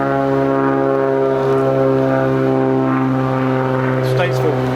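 A small propeller airplane flies near a small airport, its steady, loud engine drone holding throughout with a faint shift near the end.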